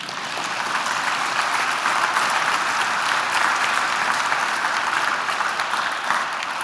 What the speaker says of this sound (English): And you can clap on that.